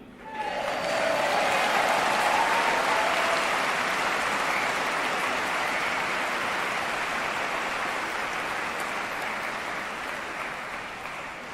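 Large audience applauding at a talk in Dubai, a broad continuous wash of clapping that swells quickly, holds steady and slowly fades, with faint voices underneath.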